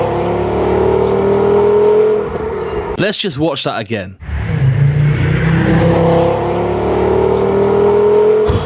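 A V5 VW Beetle fitted with a Powerflow exhaust drones past on main roads, its engine note swelling loudly and then fading. A short spoken line breaks in midway before the car's roar returns.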